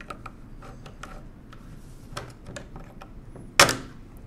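The crank is pulled off a 1920s Monroe model K mechanical calculator, giving small close metallic clicks and ratcheting taps that build to one sharp, louder clack near the end.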